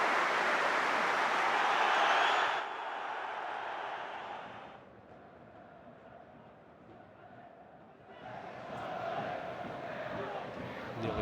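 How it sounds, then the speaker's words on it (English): Large football crowd at Celtic Park rising to applaud during a match against Hearts, a broad roar of cheering and clapping that swells, dips to a steadier murmur, then builds again. "Celtic Park will rise, they will applaud the legend that is John Yogi Hughes."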